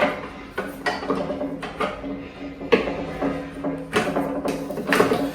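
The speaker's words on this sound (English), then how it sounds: "We can remove this handle by taking off the raising and lowering arm here." Metal clicks, clunks and ratcheting knocks come from the raising and lowering arm as it is taken off the handle of a Pallmann Cobra floor sander, close up and in irregular bursts.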